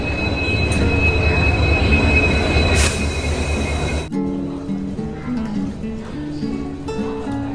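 A train pulls into a station with loud metallic wheel squeal and rumbling carriages, then braking screeches in shifting pitches as it slows, close by and continuous.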